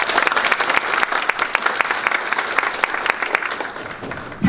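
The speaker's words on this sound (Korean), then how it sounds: "한 분 한 분 소개해 올릴 때마다 큰 박수 부탁드립니다" An audience at a National Assembly textile-industry innovation forum breaks into warm, sustained applause for a guest being introduced, a dense and steady wash of clapping from many hands in a hall.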